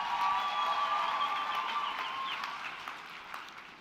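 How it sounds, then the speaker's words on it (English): An audience at a university graduation ceremony applauds a choir, a steady patter of clapping and light cheering that gradually fades over a few seconds. "Let's give them a big round of applause."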